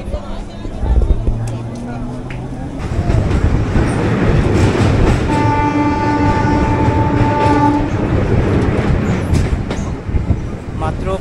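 A Sealdah–Canning local train at Garia railway station, with a loud continuous rumble of rolling carriages and a sustained horn blast in the middle, close by, with people talking underneath.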